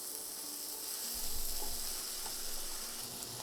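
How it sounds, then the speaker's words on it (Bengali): Leafy greens with green chillies frying in a pan over high heat, a steady, moderately loud sizzle with faint stirring that runs without a break. "আঁচটা পুরোপুরি বাড়িয়ে তারপর এটাকে আমি মানে ভেজে নিচ্ছি"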